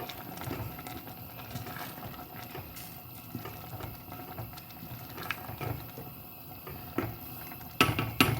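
Spoon scraping and clinking against a pot while stirring thick plantain porridge, with soft bubbling, irregular and close, louder knocks near the end.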